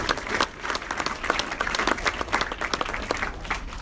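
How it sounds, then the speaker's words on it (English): Audience applause at a summit panel event, a dense, steady wash of many hands clapping close by, lasting throughout with individual sharper claps standing out. "So give them a round of applause."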